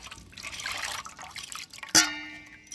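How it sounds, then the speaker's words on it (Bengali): Hands rinsed with water poured from a mug after washing with homemade hand wash: soft splashing and dripping, then a sharp splash near the end. "আমি একটা মগের মধ্যে জল নিয়ে নিয়েছিলাম, হাতটা ধুয়ে নিচ্ছি"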